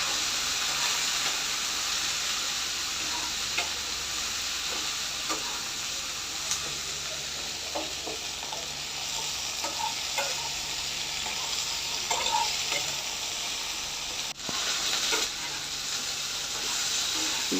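Okra frying in oil in a pan gives a steady bright sizzle and hiss, with occasional stirring scrapes and clicks and one sharp knock partway through.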